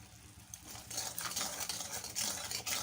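Masala with salt and sugar being stirred in a pan, a soft scraping and light sizzle, quiet and close, starting faint and growing a little busier after the first half-second, no talking.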